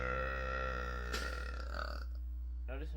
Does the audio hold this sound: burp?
yes